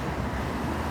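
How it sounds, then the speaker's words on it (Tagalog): Steady, broadband wind rushing across the microphone, a continuous buffeting roar with no voices, filling the whole moment at an even level. "May hangin siya ngayon."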